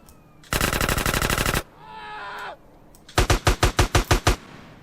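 A short double-barrel shotgun in GTA San Andreas fires in rapid rhythmic bursts, one loud volley, a brief tonal game sound, then a second run of about eight sharp blasts.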